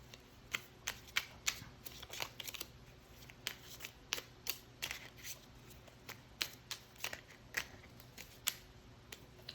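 A mini deck of tarot cards is shuffled by hand, producing repeated crisp riffling snaps at an irregular rhythm, close and fairly quiet, with no talking.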